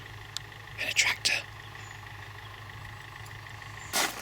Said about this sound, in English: And a tractor.